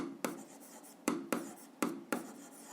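Chalk or pen strokes while an algebra equation is written, a series of five sharp scratchy bursts with short pauses between them, close and clear with no talking.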